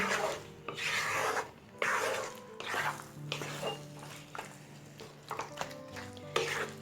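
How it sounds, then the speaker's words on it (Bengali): A spatula scrapes and stirs through jujube fruit pickle in a pan, mashing some of the fruit. Rough rasping strokes repeat in bursts, fairly close, over a soft background hum. "এখন স্প্যাচুলা দিয়ে এটাকে এভাবে একটু মিশিয়ে দিচ্ছি যাতে কিছু কুল একটু ম্যাশ হয়ে যায়"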